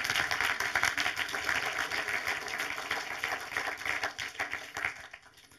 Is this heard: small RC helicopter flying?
no